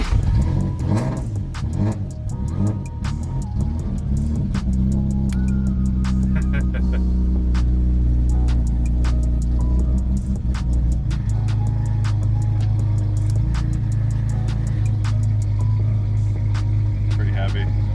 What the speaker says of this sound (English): I'm giving it gas.